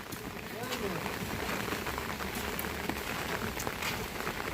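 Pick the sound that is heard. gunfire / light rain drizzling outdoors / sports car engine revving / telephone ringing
light rain drizzling outdoors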